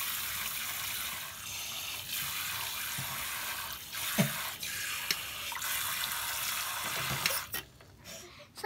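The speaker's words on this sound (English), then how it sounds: "All you gotta do is rinse it off." A kitchen or bathroom tap runs steadily while a makeup tool is rinsed beneath it, water splashing and gurgling close by with brief handling knocks and a short pause near the end.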